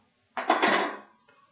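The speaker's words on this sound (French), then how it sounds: "Je vous montre combien je rajoute de cuillères dans la boîte" Small metal teaspoons dropped into a box land with a single short clatter of jangling metal, close and fairly quiet, followed by a faint tap as they settle.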